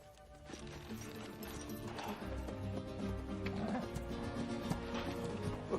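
Horses' hooves clip-clop beneath a swelling musical score, with a whinny in the mix, in a dramatic film scene of riders gathering horses.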